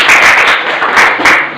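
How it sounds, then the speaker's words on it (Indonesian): A short, loud burst of classroom clapping for a student named Agni, in uneven waves that swell and dip over under two seconds. "Kasih tepuk tangan untuk Agni ya."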